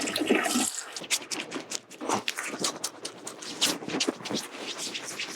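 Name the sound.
washing face with a gentle cleanser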